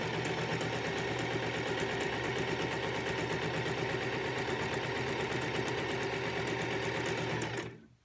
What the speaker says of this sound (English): And then sew down the long side.